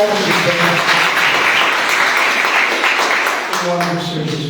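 A church congregation claps together in a loud, sustained burst that fades slightly near the end as a voice begins speaking over it.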